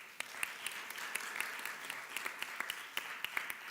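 A church congregation claps in sustained applause, many hands patting steadily at a moderate distance, with individual claps standing out from the dense wash.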